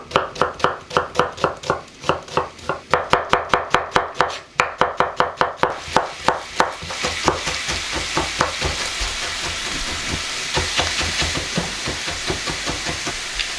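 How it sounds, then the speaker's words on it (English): A knife chops onions, carrots and celery on a board for spaghetti bolognese, rapid even knocks for about six seconds, then a louder continuous sizzling hiss from a hot pan takes over. "we're gonna start cutting our veg"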